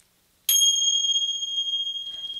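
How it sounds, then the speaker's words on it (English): A meditation bell is struck once and rings out with a clear, sustained metallic tone that slowly fades, heard alone and close. "I'm going to ring the bell."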